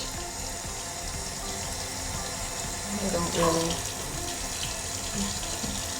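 Tap water runs steadily into a bathroom wash basin, a constant close splashing hiss with a brief louder gush partway through as hands move under the stream, while someone speaks over it.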